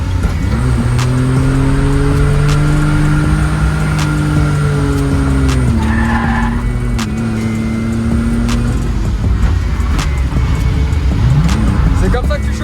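A drift car's engine drones loudly and close on a warm-up lap, holding a steady pitch with small rises and dips and a few shifts, while people talk over it throughout.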